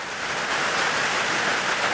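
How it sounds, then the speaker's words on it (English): Steady rain from Hurricane Barry pours down as a continuous, even hiss, close and moderately loud, with no voices or other sounds. "We got Hurricane Barry bringing some rain in."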